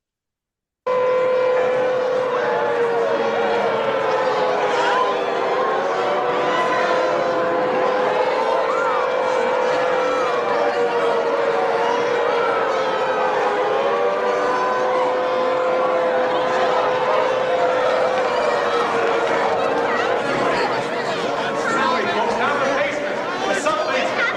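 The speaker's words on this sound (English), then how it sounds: "This scene is the sirens going off in a city as the bombs are falling" A sustained, wailing air raid siren in a city drones loudly and almost steadily, its pitch drifting slightly up and down, over a murmur of background noise.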